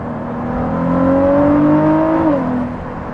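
A Ford GT with a Quicksilver Inconel exhaust revs in second gear, its pitch climbing steadily and then dropping sharply as the throttle lifts, loud and close with no talking.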